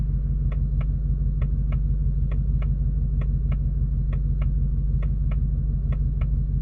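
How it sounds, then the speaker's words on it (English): A 2024 Ford Mustang GT's turn signal ticks steadily in paired, unusual-sounding clicks over a low engine idle rumble inside the cabin. "it has a weird blinker noise"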